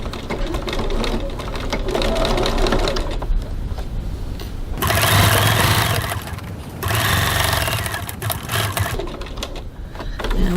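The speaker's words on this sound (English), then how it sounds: "now I'm going to baste this side edge 3mm 1/8 of an inch from the edge" A sewing machine runs in bursts while basting the side edge of a fabric bag, its fast mechanical whirr and needle chatter close and loud, pausing briefly between runs.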